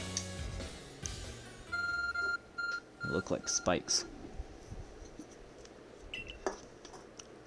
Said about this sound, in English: The arc phone is beeping.